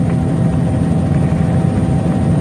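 An aircraft engine drones steadily while coming in to land, a loud continuous low rumble with a rotor-like throb throughout, and no voices.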